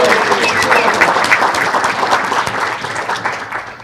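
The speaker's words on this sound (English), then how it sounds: "big round of applause for Sue" A luncheon crowd applauds a state representative at a veterans appreciation event, with loud, close, continuous clapping that stays even for the whole stretch and carries no speech over it.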